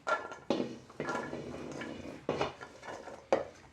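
Chopped rhubarb pieces are tipped into a bowl, giving several sharp clattering knocks and scrapes on the dish, close and fairly quiet, with no talking.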